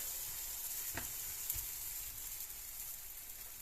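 Food cooking on an Action multigrill, a faint continuous sizzle with a couple of soft taps from turning the food, no speech.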